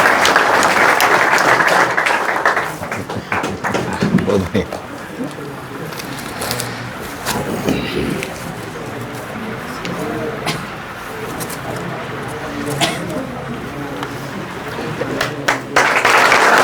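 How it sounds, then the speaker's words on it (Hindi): An audience gives sustained, dense applause for the chief guest at the opening of a second coaching branch in Halai Bazar. The clapping stays loud and steady throughout, with a few louder individual claps standing out from the crowd. "एक बार जोरदार ताली होनी चाहिए हमारे मुख्य अतिथि अभय भैया जी के लिए"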